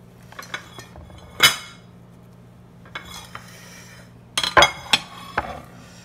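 Cutlery and plates clinking as French toast is arranged on a plate: a few sharp, close metallic clinks and taps, scattered irregularly with quiet pauses between them.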